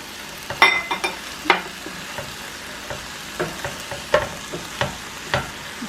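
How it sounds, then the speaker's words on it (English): Paella with fire-roasted tomatoes and frozen peas stirred in a sizzling pan, a spoon tapping and scraping in irregular strokes over soft frying crackle, close up. "Stir that around a little bit."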